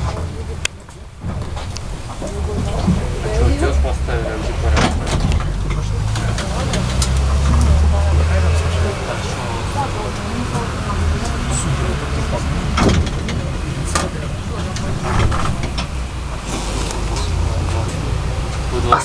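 Inside a moving KTM-19 tram on Moscow route 37, a steady low rumble and motor drone carry on throughout, with rattles, clunks and passing knocks over the running noise, plus some background voices.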